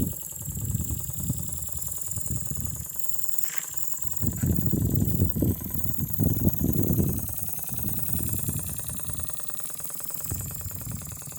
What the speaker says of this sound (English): Engine's kind of resounding through this glass top table.